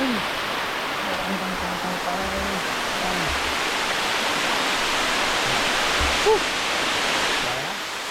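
A waterfall beside the Moei River in Tak gives a steady, loud broadband rush that carries through the whole stretch, with faint low sounds drifting underneath.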